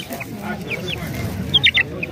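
Chickens and roosters cluck at a poultry market, several short close clucks scattered through the clip over a low murmur of background voices.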